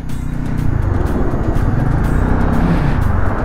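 Dense, loud rumble of cars and motor vehicles crowding a mountain road on the Gata Loops toward Ladakh, engines droning continuously and close by with no pauses.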